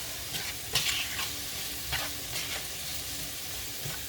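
Vegetables fry and soften in a pan while being stirred, a soft steady sizzle with occasional scraping stirs, close and fairly quiet, no talk.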